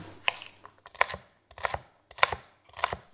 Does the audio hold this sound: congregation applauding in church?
no